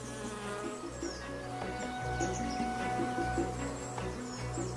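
A swarm of honey bees drones in a dense, steady buzz that stays loud and close the whole time, with a low hum underneath and faint higher tones drifting over it.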